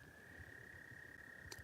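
Frogs calling by a lake in the early morning, a steady faint chorus with one sustained high trill running throughout and a brief louder call near the end, outdoors with light background noise.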